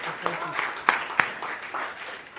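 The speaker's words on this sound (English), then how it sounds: "if I can give a big round of applause to Telkom" Applause from an audience at a netball league launch event, a few scattered claps that rise briefly amid a low room murmur and faint voices, short and moderately close.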